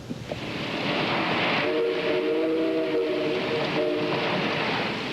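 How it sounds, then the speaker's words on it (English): A model coal train rumbles along the track with a steady low roar, and a multi-tone whistle sounds in the middle before fading. "A coal train rumbles through the mythical mining town of West Winfield, PA"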